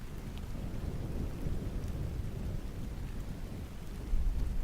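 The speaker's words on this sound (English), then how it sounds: "Storm outside sounds really cool." A thunderstorm outside brings steady heavy rain with low rumbling thunder, a continuous wash of noise that is moderately faint and distant, swelling briefly near the end with a deeper roll.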